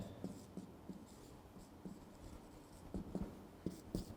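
A pen or marker taps and scratches in scattered light strokes against a low steady room hum as an answer is written out during a maths lecture, with no voices.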